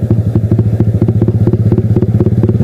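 A Yamaha R15 V3 motorcycle with an open exhaust and a new clutch spring and clutch plates idles close and loud, a rapid, uneven, throbbing exhaust beat pulsing steadily throughout.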